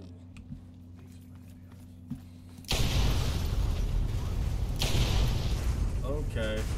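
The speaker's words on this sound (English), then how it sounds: "Okay, that's an explosion that I dealt with." A sudden loud explosion in the video game Fallout 3 erupts after quiet mechanical clicks, then a sustained rumbling blast with a second surge and crackling debris, talk heard faintly beneath.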